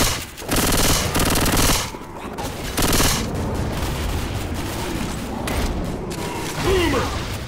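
Rapid automatic gunfire bursts rattle loudly in Left 4 Dead 2 gameplay, coming in several dense volleys with brief gaps. Mechanical game effects sound between the bursts, and in-game character voices call out over the action.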